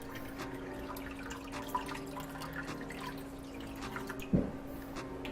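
Water being added to a saucepan holding a can of condensed milk for dulce de leche. Soft, faint trickling and dripping, then a single sharper knock near the end.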